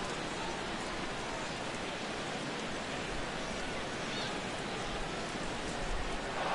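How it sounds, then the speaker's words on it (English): Heavy rain pours during a baseball game in MLB The Show 17, a dense, constant hiss that stays level throughout, with no distinct drops or pauses. "This has got to be the hardest rain we've seen all afternoon"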